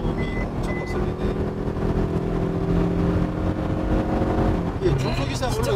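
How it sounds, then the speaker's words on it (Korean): A BAIC Kenbo 600 engine drones and rises under acceleration inside the cabin, a steady low hum with tonal whine, while someone talks over it. "확실히 엔진 소음이 엄청 거슬리네"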